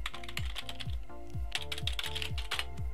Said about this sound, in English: I've got a new keyboard now. You probably can't hear it that much, actually, compared to the old one, which was very much like this.